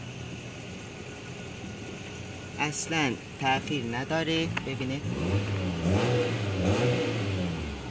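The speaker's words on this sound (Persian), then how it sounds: "صدای اگزوزش هم که زیاد نیست، موتور اصلا صدای موتورم زیاد نمیه" A Peugeot Pars with a 2000cc engine idles steadily, then rises and falls through several quick revs before settling into a raised hum. Someone speaks over the engine noise.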